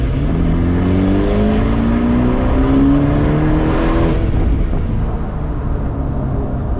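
Ferrari Performante sports car accelerating hard on an Italian road, a loud, close engine note rising steadily in pitch with one brief dip partway through, heard from inside the cabin with no talking.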